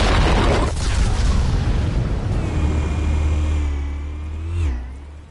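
Explosives set off in a Batman series burst in a loud, broadband blast, then settle into a sustained low rumble with a faint falling whine that fades out after about five seconds.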